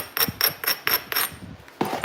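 Sharp, close strikes land on the edge of a flint piece being knapped and beveled, about half a dozen crisp taps in quick rhythm with a short pause before the last one.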